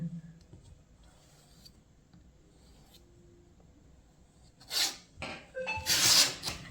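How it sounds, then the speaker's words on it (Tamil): Sharp scissor cuts through kurti fabric come in a short burst near the end, loud and close after several seconds of quiet handling noise. "போய் இதை கட் பண்ணி எடுத்துடலாம்"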